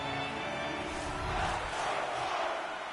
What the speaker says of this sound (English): listen to this crowd back into it